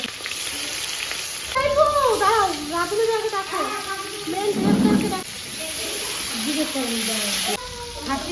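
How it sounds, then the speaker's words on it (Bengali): Mutton curry simmers and sizzles in a pan at home, a constant close hiss running beneath people talking over it. "আমাদের বাড়িতে খাসির মাংস রান্না হচ্ছে"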